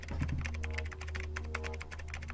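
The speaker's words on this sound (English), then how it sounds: "I proceeded to type on the keyboard." Rapid, irregular keystrokes on a computer keyboard, a steady clatter of close taps running throughout over a low background hum, with no voices.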